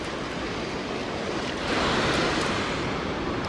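Ocean waves wash onto a beach during shore fishing for sharks, a steady loud rush of surf with wind noise on the microphone that swells midway, and no voices.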